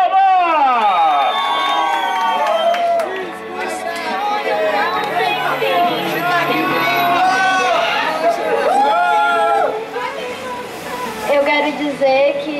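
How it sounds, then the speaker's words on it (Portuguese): A party crowd at a birthday celebration cheers and whoops loudly with excited chatter and shouting, close by, dipping briefly before swelling again. "Uma salva de palmas!"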